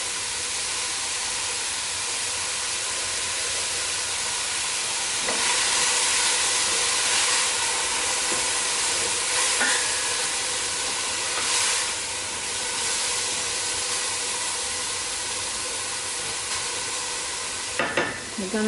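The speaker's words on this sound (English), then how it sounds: "We're going to let this fry for about 3 to 5 minutes." Lots of salted leeks frying in a pot for a vegan potato, leek and celery root soup, a continuous bright sizzle and hiss with occasional stirring scrapes, steady and close throughout.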